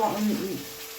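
Cashew and poppy seed paste frying in a pan gives a close, steady sizzle for a brief moment, with a voice speaking over it.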